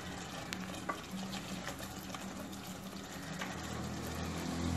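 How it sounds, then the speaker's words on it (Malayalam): Mushroom masala curry simmers and bubbles in a pan, a quiet continuous sizzle with faint pops and soft stirring scrapes, steady and close with no talking. "അപ്പോൾ ഇതിട്ടു നന്നായിട്ട് തിളച്ച് തുടങ്ങിയിട്ടുണ്ട്."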